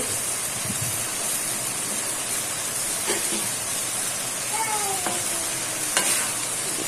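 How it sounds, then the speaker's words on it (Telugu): Mango pieces being stirred into a bubbling eggplant and egg curry, a constant hissing sizzle under occasional soft scrapes and clinks of the spoon, with a brief faint tonal squeak partway through. "మొత్తాన్ని కలుపుకోవాలి మ్యాంగో ముక్కలు ఉడకాలి కదా మొత్తాన్ని బాగా కలుపుకోవాలి"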